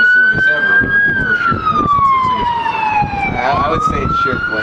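A police siren wails loud and steady, its pitch gliding slowly downward then rising again, amid crowd and arena noise at an all-star basketball game in Addison, Texas.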